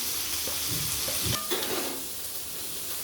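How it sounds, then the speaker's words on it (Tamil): Onion, green chilli and curry leaves frying in a pan, a steady close sizzle with a few clinks and scrapes of stirring near the middle, then a continuous hiss, no talking. "வெங்காயம், பச்சை மிளகாய், கருவேப்பிலை போட்டுக்கணும்."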